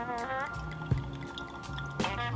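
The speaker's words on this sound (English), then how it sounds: "here is the fresh pour" Black Ridge bourbon whiskey pours from a freshly opened bottle into a glass with a short liquid trickle and gurgle, close and moderately loud, with a voice talking over part of it.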